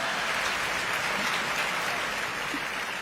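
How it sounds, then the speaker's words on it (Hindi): Steady audience applause at a comedy joke performance, a continuous even patter of many hands lasting about three seconds, moderately loud and unbroken. "अगली पंक्ति पर तालियां चाहता हूं"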